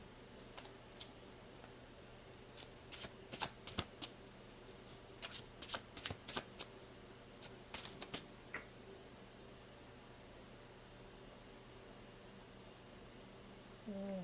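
Tarot cards are shuffled in quick, crisp bursts of riffling and flicking, close and fairly quiet, with pauses between the bursts, then the sound fades to near silence at the end.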